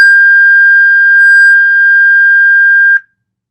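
A clean 1600 hertz sine-wave beep, its frequency doubled once more, sustains loud and unwavering for about three seconds before stopping sharply, with silence after.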